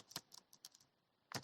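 Fingers tapping a computer keyboard while entering Python pandas code: a handful of quiet, sharp keystrokes in an irregular rhythm, close by and isolated, with one firmer key press near the end.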